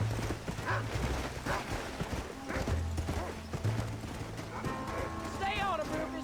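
In Red Dead Redemption, a horse gallops with rapid, rhythmic clip-clopping hooves while voices talk over it, and whinnies and other game sounds rise toward the end.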